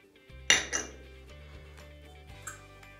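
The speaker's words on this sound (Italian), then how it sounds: "Vedete, adesso faccio con la forchetta" A fork clinks and scrapes against a bowl while ingredients for maritozzo buns are mixed, with several sharp metallic taps over a low steady hum, close up and fairly quiet.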